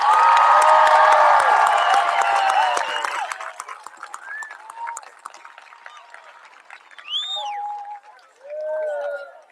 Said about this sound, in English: One more round of applause for the class of 2026.